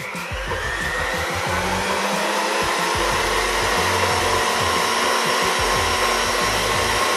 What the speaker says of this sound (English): I think I'm gonna mix it just a little bit more so it'll get a little bit, break down some of these black beans a little bit more